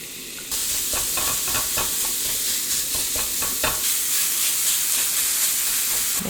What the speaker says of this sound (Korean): 프라이팬에 고기를 넣고 불을 세게 해서 볶아주세요.